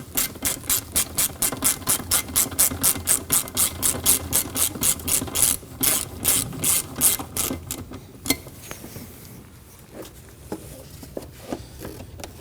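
A ratchet wrench clicks in fast, steady bursts up close while snugging down bolts on a 2003-2006 Subaru Baja 2.5L engine, then slows to a few scattered clicks and taps.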